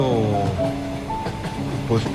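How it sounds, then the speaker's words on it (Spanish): Steam train rumbling along the rails with steel wheels squealing metallically over a steady clatter, fairly close, with some voices mixed in. "el rechinar de las ruedas de acero sobre los rieles"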